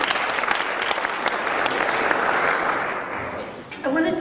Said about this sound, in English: He deserves an extra round of applause for getting this all put together.